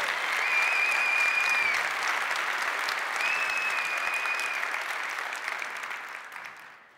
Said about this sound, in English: Let's give them both a round of applause for being such a great team